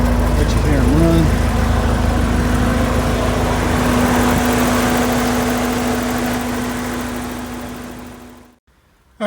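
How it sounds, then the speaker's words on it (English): Cooling fans on a warmed-up Porsche 944 run steadily alongside the idling engine, a constant broadband whir with a steady hum, close and loud, cutting off abruptly near the end. "I've got the engine up to temp, and I'm just checking that the fans work"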